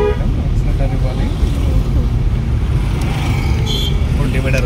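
Car horn sounding in dense city traffic, short toots over a constant engine and road rumble, with a voice talking nearby.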